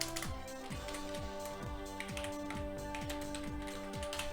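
Quick, irregular clicks of a computer keyboard being typed on, light close taps in short bursts over a steady background hum.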